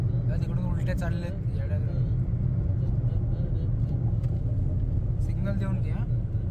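A car drives through road traffic in a steady low rumble of engine and tyres, with people talking inside the vehicle over the constant drone.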